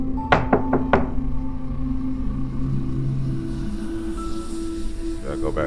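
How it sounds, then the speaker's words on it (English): Several sharp knocks come in a quick cluster near the start of a scene from the video game Keep in Mind, then fade into a low hum of game ambience with faint background sounds. "It's knocking on its own."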